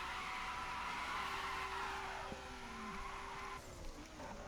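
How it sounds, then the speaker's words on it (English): A car drifts through a corner in The Crew video game, with a sustained tire squeal over a steady engine drone and a brief shift in engine pitch partway through. "in the next corner, I'm going to tell you exactly what I do when I drift through like this"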